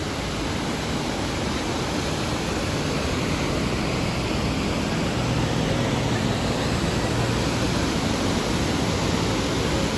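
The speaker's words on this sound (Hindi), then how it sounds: "Mini waterfall." A small mountain waterfall along the Kedarnath trek pours in a steady, dense rush of water, loud and close, unchanging for the full length with no voices.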